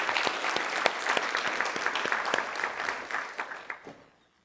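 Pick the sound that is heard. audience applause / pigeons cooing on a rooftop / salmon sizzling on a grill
audience applause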